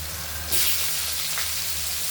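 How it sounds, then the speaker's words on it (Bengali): A broad hiss of frying swells suddenly as potatoes hit hot oil with cumin, then continues as a steady sizzle over a low hum. "জিরে আলটা গরম করে নিলাম এবার আলুগুলো ওর মধ্যে দিয়ে দেবো"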